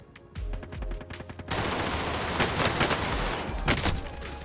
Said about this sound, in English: That is the recoil spread and recoil control of the Cold War MP5.